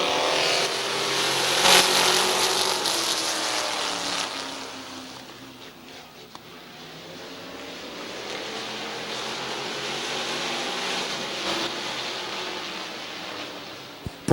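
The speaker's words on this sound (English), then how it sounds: "8-lap heat race number 1 for the Street Stocks is green." Street stock race cars circle Midvale Speedway in an eight-lap heat race, a steady roar of engines that swells as the pack passes, fades in the middle, then builds again, with no talk over it.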